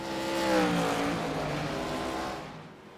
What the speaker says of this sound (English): As here comes your leader now, Stefan Ardell pulling her in